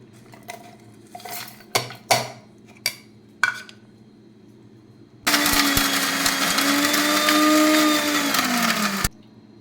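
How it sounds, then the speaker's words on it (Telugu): After a few clinks of utensils against a jar, a mixer grinder grinds green chillies to paste, roaring loudly and steadily for several seconds, then stops abruptly. "ఫస్ట్ మిక్సీకి వేసుకుందామండి దీన్ని."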